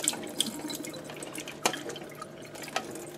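Water runs and splashes while vintage 116 panchromatic film is rinsed between developing steps, a soft continuous trickle broken by a few sharp drips and clinks, with no voices.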